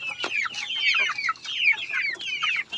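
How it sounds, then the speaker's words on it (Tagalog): Several chickens on a rural Philippine chicken farm cluck and chatter continuously at feeding time, close by, with overlapping high, busy calls and no voices. "Ngayong araw ay magpapakain tayo ng alagang manok."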